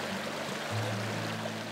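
A creek in Arkansas flows steadily, a continuous broadband wash of running water with a faint low hum beneath, heard alone at a moderate level without any talk.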